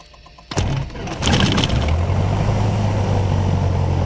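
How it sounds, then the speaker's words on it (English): A Piper Warrior light aircraft's piston engine cranks with a brief starter whir and a few uneven pops, then catches and settles into a loud, steady propeller drone up close. "we're going to look outside and yell clear, and we're going to crank the engine"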